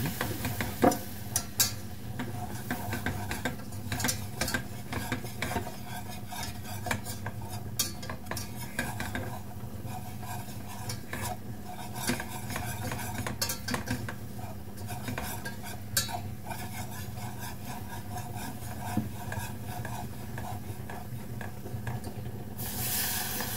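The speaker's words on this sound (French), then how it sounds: "Une fois le beurre bien fondu, j'ajoute la farine. Je remue." Flour being stirred into melted butter in a pan for mac and cheese makes a steady faint scraping and light clinking of a utensil against the pan, continuing close and unbroken with no voices.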